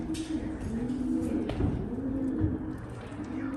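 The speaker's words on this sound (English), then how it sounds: "Pigeons." Pigeons coo from close by on a castle viewing platform, a few soft, low rolling calls repeating over a quiet airy background without speech.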